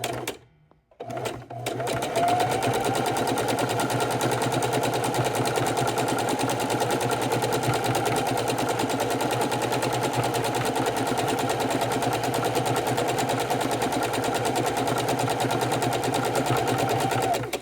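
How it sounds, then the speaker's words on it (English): A Singer Heavy Duty sewing machine stitches a scrappy raw-edge appliqué table runner, a fast steady mechanical whir running continuously and close after a brief start-up pause. "that'll be a good show of the Singer sewing machine, the Singer Heavy Duty"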